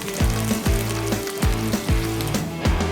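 Handful of curry leaves hitting hot oil in a pan while making thavala adai, with repeated sizzling bursts and crackles over a steady fry hiss, close and fairly loud.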